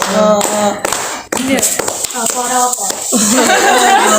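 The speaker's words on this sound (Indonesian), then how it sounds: "Tepuk tangan." Children clap their hands together in a classroom singing activity, a run of bright, close taps mixed with young voices talking and chuckling over them.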